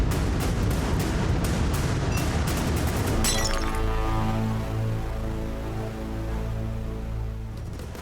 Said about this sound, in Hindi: इतनी गहरी नींद की इनको ये ग्लास टूटने की भी आवाज नहीं आई